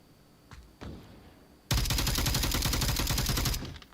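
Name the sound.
gunfire from VR video game Onward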